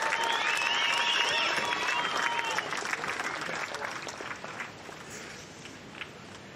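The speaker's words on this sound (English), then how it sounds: "Let's hear a round of applause for our event winner, Kai Sallas." A crowd applauds the event winner of the Bells Beach longboard surf contest, a dense burst of clapping that gradually thins and fades, with a few whistles early on.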